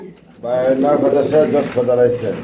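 Male king pigeon, white, cooing close up in a loft with a steady, harmonic call that persists for about two seconds.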